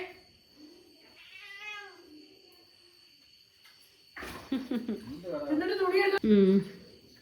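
A cat meows a few times, first a short call, then louder drawn-out meows near the end, against a quiet background with a faint steady hum.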